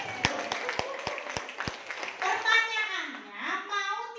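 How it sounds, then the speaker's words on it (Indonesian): A short burst of rhythmic clapping from a seated training audience, about six distinct claps at a steady pace, then giving way to scattered voices and someone talking. "Ya Allah, aplaus dong buat"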